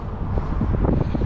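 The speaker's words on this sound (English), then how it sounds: "Oh, this wind's mental. It's blowing me gimbal all over the place." Strong wind buffets the microphone outdoors at Conisbrough Castle, making a loud, continuous low rumble with irregular gusty thumps through the whole short stretch.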